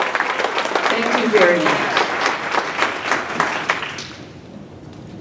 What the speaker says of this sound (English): Can we give these legendary men a round of applause?